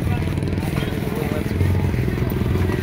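Motorcycle on a road near a paid motorcycle parking area at Wawa Dam, a close, loud, steady engine putter throughout, with people talking over it.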